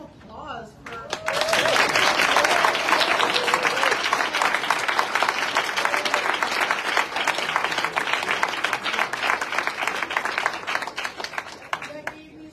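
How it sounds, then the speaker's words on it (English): Sustained applause from an audience at an outdoor rally against the demolition of the Roof Depot in East Phillips, rising quickly and holding steady for several seconds before tapering off, with faint voices mixed in. "let's have one more round of applause for."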